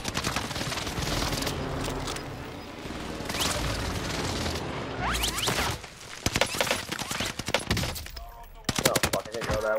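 Call of Duty: Warzone gunfire, dense and continuous bursts of automatic shots mixed with impacts, loud and close, thinning into sharp separate cracks near the end, with a voice talking briefly over the action.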